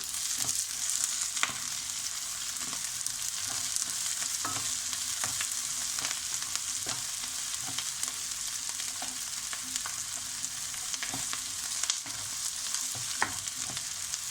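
Finely chopped green chillies fry with onions in a pan while cooking a beef keema dish, giving a steady close sizzle throughout with scattered light clicks of stirring and no talk.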